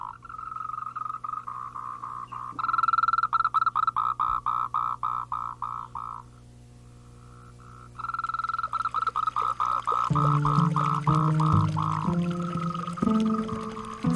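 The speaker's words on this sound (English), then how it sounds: "The low and loud croaking of male frogs emanates from all the rivers and streams of the refuge." Male frogs call from rivers and streams in a wildlife refuge: bursts of rapid, pulsing croaks repeat loud and near, pause briefly, then return with deeper overlapping calls joining in.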